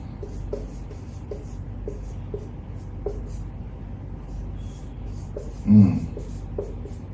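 Chalk or marker writing on a classroom board, a series of short scratchy strokes in irregular rhythm, with a brief louder knock or thud partway through and no talking.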